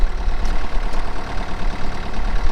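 A 2020 Kubota LX3310 diesel tractor idles steadily with a low, even rumble, close by and with no talk over it.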